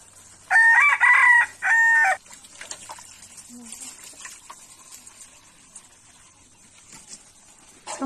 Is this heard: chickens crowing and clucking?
yes